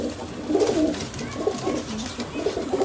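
Pigeons coo in soft, repeated low rumbling phrases, several overlapping close by, with a steady background murmur of birds.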